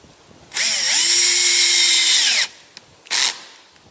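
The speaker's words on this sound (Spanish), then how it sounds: "Una vez que el tornillo llega a fondo, el taladro zafa y continuamos colocando el resto." A power drill drives screws into plastic while installing a pedal and rudder system on a boat, whining steadily for about two seconds with pitch shifts as the screw seats, then a short second burst, close and loud.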